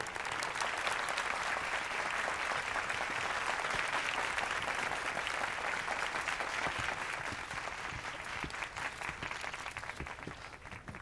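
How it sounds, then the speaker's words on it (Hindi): Sustained applause from an audience greeting a guest of honour at a staged event, dense steady clapping that holds strong throughout and thins slightly toward the end. "तालियां।"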